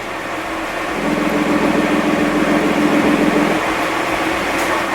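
The exhaust of a Nissan GT-R with Armytrix remote valve control idles as a steady broadband rumble and hiss, its low throb shifting and softening partway through as the valves close, with no talk.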